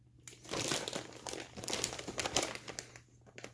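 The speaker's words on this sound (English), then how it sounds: "Let me get this out of the package here to kind of take a better look at it." Insane Audio JK2001 car stereo head unit being pulled out of its taped packaging, close, quiet crinkling and tearing of plastic and tape in irregular bursts.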